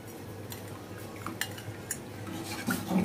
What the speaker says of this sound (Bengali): খুব ভালোভাবে নাড়ব।